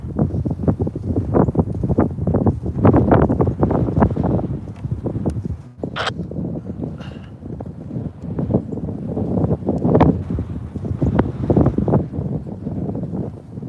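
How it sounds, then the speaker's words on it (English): Wind buffets a microphone outdoors beside a railway line in Minnesota, making a loud, continuous low rumble that swells and fades in gusts for the whole stretch. "Really wish this wind would hurry up and die down."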